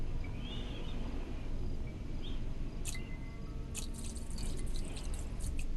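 Liquid dripping and trickling as gasoline is poured in a multiplayer horror video game set in a cursed house, small wet drips over a steady low background hum.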